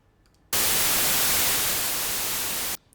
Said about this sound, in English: Now I have a white noise sample,